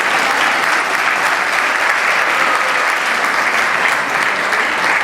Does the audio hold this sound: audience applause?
yes